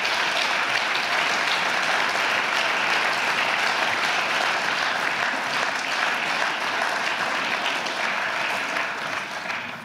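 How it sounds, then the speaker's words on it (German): Sustained applause fills the Berlin House of Representatives chamber as staff of the Arbeiter-Samariter-Bund are welcomed, an even wash of many hands clapping that holds steady for several seconds and eases slightly at the end. "Applaus."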